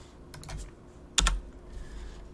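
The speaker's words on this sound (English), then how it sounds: "hitting the letter P on our keyboard to select that pen tool" Keys on a computer keyboard are tapped during work in drawing software: a few quiet, scattered keystrokes, then one sharper, louder clack, all close and in a quiet room.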